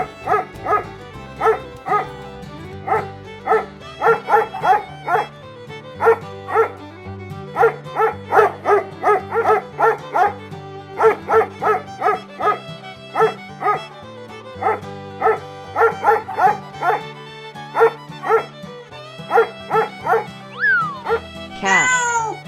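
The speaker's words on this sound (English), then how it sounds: "dog" A dog barks in repeated short bursts over steady background music, the barks coming in clustered rhythmic groups across a long stretch.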